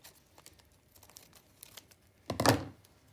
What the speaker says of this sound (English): let's open up our parachute packs